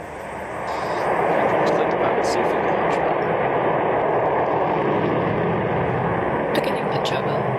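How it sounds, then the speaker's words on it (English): A Rocket Lab rocket lifts off from New Zealand, a loud, broad, continuous roar swelling within the first second and holding steady, with faint radio chatter over it. "Liftoff."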